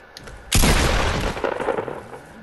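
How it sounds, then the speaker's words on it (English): A loud, close gunshot or explosive boom from the Fortnite battle royale shooter erupts suddenly after a quiet moment, with a long rumbling decay and scattered debris-like crackle trailing off. "Who's shooting?"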